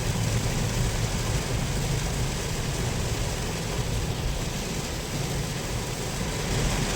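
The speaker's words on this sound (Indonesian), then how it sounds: "kita dikasih hujan yang begitu deras guys" Heavy downpour with thunder heard from inside a car on a road trip between Bandar Lampung and Prabumulih, a dense, steady roar of rain on the vehicle with low engine rumble underneath, loud and continuous.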